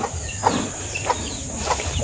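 Chickens kept tied up at a rural provincial farm, with faint clucks and short calls scattered across a steady background hiss, fairly distant and low in level.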